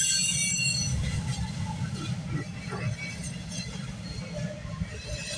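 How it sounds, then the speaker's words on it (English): A long freight train rolls past close by, steady heavy rumble with metallic wheel squeals and rattling cars continuing throughout. "This has got to be one monster train we're catching."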